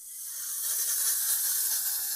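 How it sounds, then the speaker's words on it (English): A Steam Fusion pressurized steam cleaner jetting steam onto a stove, a steady, close, bright hiss that swells slightly and holds for a couple of seconds with no talking. "you can see the steam and how that is working on the stove"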